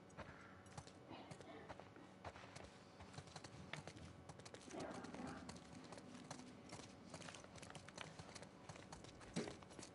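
Horse hooves clip-clop in a quick, uneven rhythm in the video game The Last of Us Part II Remastered, fairly close, over a faint background murmur.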